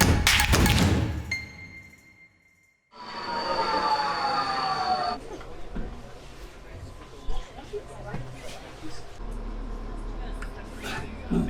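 A metro train rumbles and squeals through a deep underground station in Budapest, the screech of wheels fading into a steady roar with people talking nearby.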